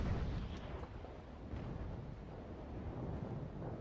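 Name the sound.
cannon ranging shot fired in the video game Naval Action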